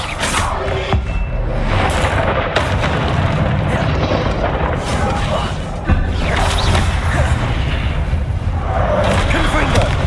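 Repeated Confringo fire-spell blasts in Hogwarts Legacy, loud booming bursts layered over continuous combat noise, with a sharp new impact partway through and someone shouting spell names throughout.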